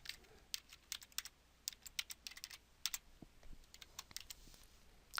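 Typing on a computer keyboard while entering a last name into an online approver form: a quick, irregular run of sharp key clicks, close and fairly quiet, with no talking.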